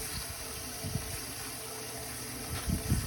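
Water rushing steadily into the tank of a 1953 Gerber Arlington toilet as it refills, a continuous close hiss and gurgle with low bubbling surges near the end.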